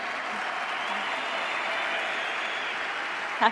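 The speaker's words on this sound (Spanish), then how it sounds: "un aplauso, por favor, por la agilidad del equipo, de la organización" An audience at an economic forum applauds in a steady, even wash of clapping that holds at one level and ends with a brief louder bump.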